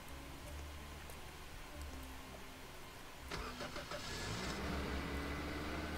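A small truck engine in the Roblox game Lumber Tycoon 2, a steady mid-pitched car-like drone that roughens and grows louder about halfway through, as if starting up or revving, with no talking.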